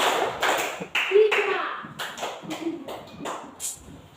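Hands clap in short bursts during a counseling clapping exercise, with uneven groups of sharp claps separated by brief pauses, and talking between them.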